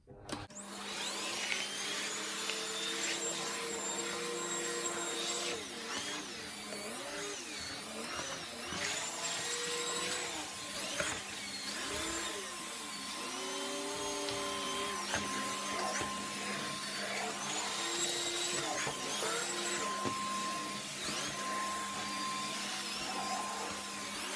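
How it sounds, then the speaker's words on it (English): A VAX ladybug vacuum cleaner runs steadily over a floor with a continuous whining motor drone, its pitch shifting as it is pushed back and forth, close and loud throughout. "I'm going to use my ladybug and give the floor a thorough vacuum."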